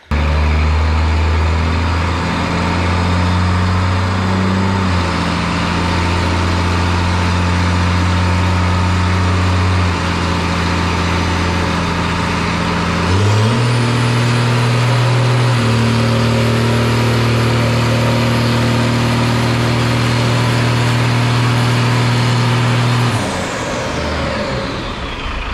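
A diesel truck engine with a 12mm VE injection pump runs on a dyno, loud and sustained, its drone stepping up in pitch as it revs through the gears before easing off near the end.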